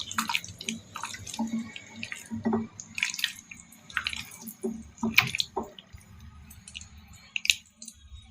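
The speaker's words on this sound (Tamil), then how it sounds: "சிக்கனுக்குள்ளே நல்லா போகிற மாதிரி அழுத்தி விட்டு நல்லா தேய்ச்சி விட்டுக்கோங்க" Wet squishing and soft squelching as chicken pieces are hand-kneaded in a masala marinade for homemade KFC-style fried chicken, irregular close-up pulses and drips with no talk.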